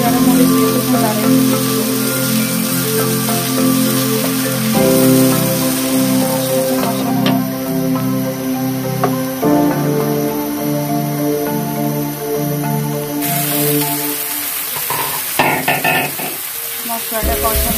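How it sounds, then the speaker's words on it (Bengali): Spice paste for mustard hilsa curry sizzles and crackles steadily in a pan on a gas stove, with occasional stirring scrapes. A voice talks over the frying throughout. "মশলাটা কষানো হয়ে গেছে।"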